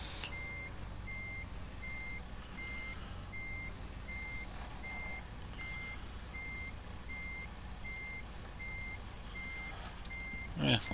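A truck in American Truck Simulator backs up to a trailer, its reversing alarm beeping steadily at an even pace through the whole stretch over a low idling engine rumble, ending with a short hiss.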